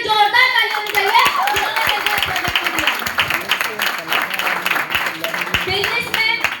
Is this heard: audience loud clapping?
yes